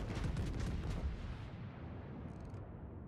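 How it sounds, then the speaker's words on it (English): Warship main guns fire in a ripple salvo in World of Warships, a heavy booming burst of shots that rolls into a fading low rumble, loud and without voices. "I really like the way that these guns sound in ripple fire"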